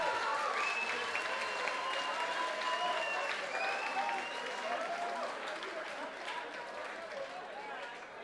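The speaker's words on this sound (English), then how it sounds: "Give a big round of applause" A large crowd at a Thai-rules kickboxing title fight applauds and cheers continuously, a dense wash of clapping that slowly tapers off toward the end.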